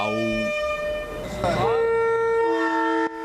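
Loud, sustained train horns blare in overlapping chords, shifting pitch midway, then cut off abruptly near the end.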